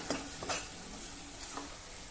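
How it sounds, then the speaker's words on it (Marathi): Turmeric, red chili powder and other spices are sautéed in a pan, a faint, brief hiss of sizzling with a couple of soft scraping stirs. "हे बघा, सर्व मसाले मी जरा परतून घेतले."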